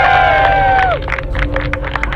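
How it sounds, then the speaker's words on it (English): A tonal voice-like sound fades out, then a burst of clapping and cheering from a crowd rises and continues steadily to the end. "Let's give him another round of applause,"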